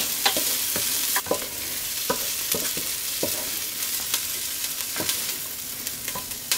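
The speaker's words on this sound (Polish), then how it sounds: "Teraz zaczniemy smażyć cebulę z czosnkiem i będziemy to robić przez około 3-4 minuty." Onion and garlic frying in a pot while stirred, a continuous sizzle punctuated by repeated sharp spoon taps and scrapes against the pot.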